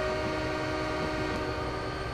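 A sustained train horn from Train Simulator 2015, on the Soldier Summit route, holds a steady loud chord throughout, over a low rumble of rolling stock with no pauses or talk.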